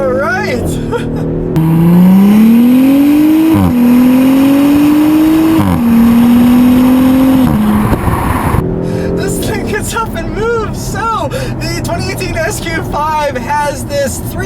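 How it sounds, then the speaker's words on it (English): An Audi SQ5 with a 3-liter turbo V6 pulls hard on a straight road, its engine note rising through several upshifts in long climbing sweeps, then fading as people talk over the cabin hum. "SQ5 has this 3-liter turbo V6 engine that does 354 horsepower, 369 pound-feet of torque"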